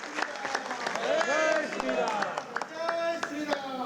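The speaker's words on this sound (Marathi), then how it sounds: "आपण सर्वांनी जोरदार टाळ्या वाजवून त्यांना शुभेच्छा देऊयात" An audience at a Bhaubeej community gathering claps in scattered, uneven bursts of individual claps under a voice speaking.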